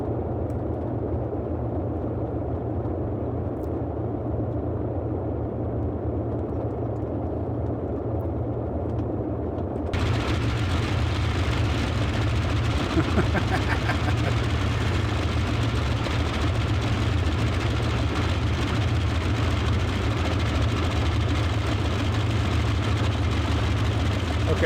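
A Boeing 247D's engines rumble at a low, steady idle-like drone as the vintage airliner taxis in Microsoft Flight Simulator 2020, the noise swelling louder partway through and holding a constant heavy throb.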